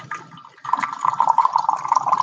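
Hot water from a near-boiling kettle pours steadily into a leaking teapot during a tea tasting, a close, continuous trickling stream that starts after a brief quieter splash and keeps running without talk.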